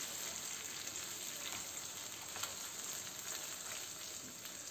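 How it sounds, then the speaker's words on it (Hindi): One kilo of boneless chicken cubes fries in a pan for a restaurant-style makhni handi, giving a steady, even sizzle that continues unbroken throughout with no talking. "अब चिकन को हम फ्राई करेंगे।"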